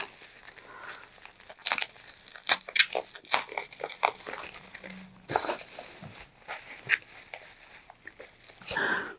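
Plastic packaging for a Commander X16 cartridge case crinkles and rustles as it is handled, in close, intermittent bursts with short pauses between.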